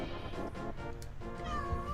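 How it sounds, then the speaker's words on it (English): A pet cat meows indoors with a drawn-out, wavering cry near the end, set against a steady background of game music and sound effects from a Legend of Zelda: A Link to the Past playthrough. "that's my cat over here"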